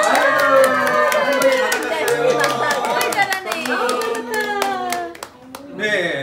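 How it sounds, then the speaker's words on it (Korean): Guests at a Christian first-birthday party clap together, a busy run of sharp hand claps close by with excited voices and chatter over it, thinning out near the end. "우리 박수. 박수."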